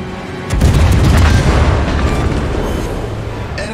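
A large explosion as an enemy cruiser is destroyed in a World of Warships naval battle game, a loud booming blast that hits suddenly and then rolls on as a sustained rumble.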